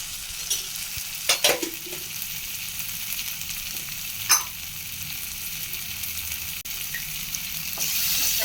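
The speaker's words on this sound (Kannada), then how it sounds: "ಇದನ್ನು ಸ್ವಲ್ಪ ಹಸಿ ವಾಸನೆ ಹೋಗೋ ತನಕ ಹುರ್ಕೊಳ್ಳೋಣ" Kadai paneer masala with tomato and chili powder frying in a pan, a soft continuous sizzle with a few brief spoon scrapes and knocks near the start.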